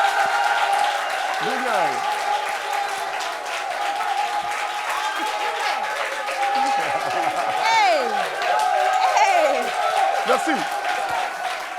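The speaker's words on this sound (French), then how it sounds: "On peut applaudir comme ça." An audience claps steadily throughout a gathering, while a voice speaks and calls out over the continuous applause.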